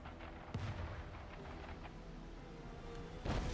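Battle cruisers firing artillery in the strategy game Anno 1800: two heavy booming shots a few seconds apart, the first sharp and the second louder, over a steady low rumble of game ambience.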